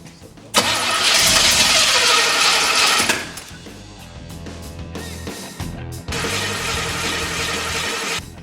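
A Chevrolet El Camino engine that had sat for 10 years, with carburetor issues, cranks and roars into life, runs loudly for a few seconds, dies down to a rough idle, then revs up again in a second burst.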